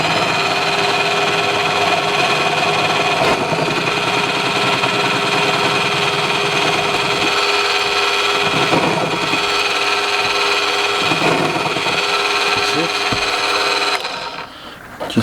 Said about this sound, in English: start the drill